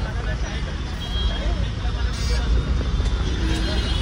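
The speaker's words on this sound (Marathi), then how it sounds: "तर आपला मुंबईचा ट्रॅफिक ॲज युजल" Mumbai road traffic rumbles continuously around a vehicle stuck in a jam, a dense, steady wash of engine drone and road noise heard up close without letup.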